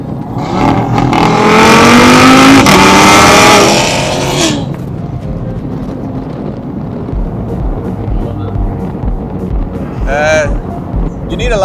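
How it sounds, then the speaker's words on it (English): A supercar cruising on the Gold Coast revs hard, its exhaust rising in a loud, close, climbing wail for several seconds before settling into a lower rumble, with a brief second rev burst near the end and people talking. "You need a louder exhaust, mate."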